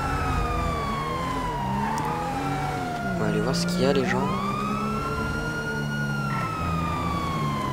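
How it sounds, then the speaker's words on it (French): Wailing emergency sirens in GTA V rise and fall in pitch, overlapping one another amid engine rumble, while someone talks over them. "j'entends des sirènes"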